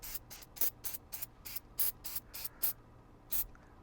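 White lithium grease sprays onto a popup camper's hitch ball in about ten short hissing bursts at an uneven quick rhythm, close and fairly loud, no speech.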